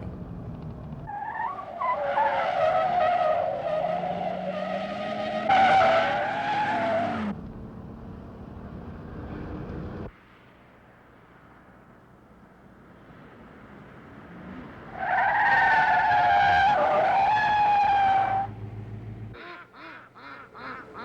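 A 1973 Oldsmobile Cutlass Supreme skids hard in an emergency stop, its tires squealing loudly in two long bursts separated by a quieter rumbling stretch, close and prominent.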